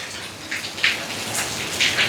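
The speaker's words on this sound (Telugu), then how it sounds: "ఇక్కడ వర్షం కూడా చాలా పడుతుంది" Rain falls at a buffalo farm during milking time. A steady patter of drops with occasional louder splashes continues throughout, with no voices.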